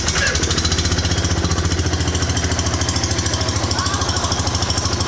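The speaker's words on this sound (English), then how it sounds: "we'll just give it a little bit of gas there on the throttle" A running engine with the clutch in and brake held is given a little throttle, producing a loud, close, rapid rhythmic chugging pulse that holds steady throughout.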